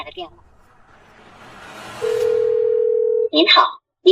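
A single steady telephone ringback tone sounds once for a little over a second on an unanswered call, followed by a recorded voice beginning to speak.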